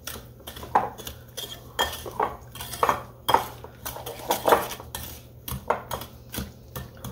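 A spoon stirs a cherry mixture in a bowl, clinking and scraping against the sides in quick uneven strokes, close and fairly crisp, with no voices.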